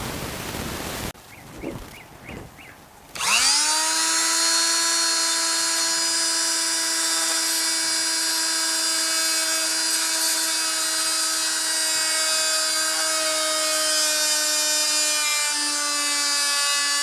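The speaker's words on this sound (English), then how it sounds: "So back to the grinder." A bench grinder spins up to a steady, loud high-pitched whine as it widens a slot in a metal hand tool, following a few seconds of softer handling noises, then holding a constant tone to the end.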